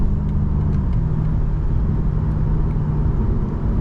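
2021 BMW M5 Competition engine running with a steady, loud low rumble from inside the car, no voices over it.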